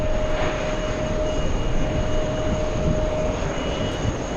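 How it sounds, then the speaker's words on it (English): An Aeromexico Boeing 787 Dreamliner taxis at JFK airport, its jet engines giving a steady rumble topped by a thin, constant whine that carries on without a break. "We have the Mexican 787."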